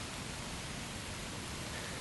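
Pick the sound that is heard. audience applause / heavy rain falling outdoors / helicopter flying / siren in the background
heavy rain falling outdoors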